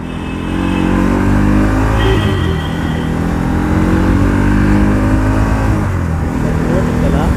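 A motorcycle engine drones loudly and steadily while riding from Kundapura to Agumbe in the cold around midnight, with a slight shift in pitch partway through and rushing wind noise over it.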